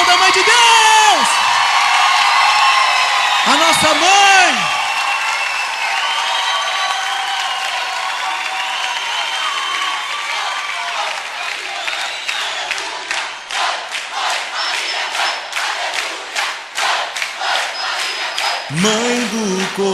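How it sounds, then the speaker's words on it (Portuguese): A church congregation at a Marian devotion program breaks into sustained applause after a sung passage, with dense, steady clapping filling the room for several seconds before singing resumes. "aplauda a mãe de Deus"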